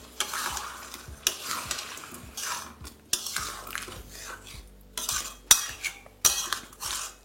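Metal spoon scraping and stirring spices into ground tomato paste in a pan for a Bengali aloo dum, repeated clanking strokes over a soft sizzle, close and fairly loud.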